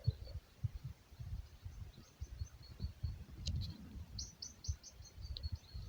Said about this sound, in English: the birds are chasing one another.